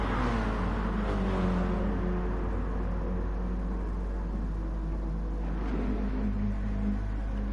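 Racing car engine in a GT sim race at the Nürburgring GP circuit, a steady, droning roar held at high revs throughout, with slight pitch shifts as the car pushes on.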